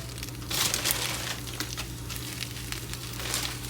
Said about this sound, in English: I have my pan heated up. I'm just going to throw in a handful of spinach.